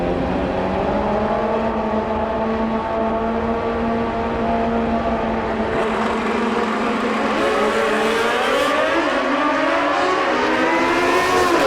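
Drag-racing motorcycles, Grothus Ultra 460 bikes at a Mancup World Finals meet, rumble in a loud, steady engine drone that rises and thickens toward the end as the revs climb, with no talk over it.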